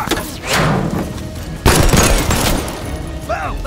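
Turret machine gun fire in Black Ops Cold War, loud sustained bursts with heavy booms and a sharp blast midway, close and dense, with battle noise and brief voice-like sounds near the end.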